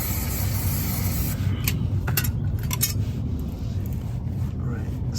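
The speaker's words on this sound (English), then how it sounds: "Just give it a little spray to wipe off the excess oil." A steady hiss of aerosol spray cleans excess oil during an oil service on a Vauxhall/Opel Zafira B 1.6, with a few light metallic clinks and taps over the top.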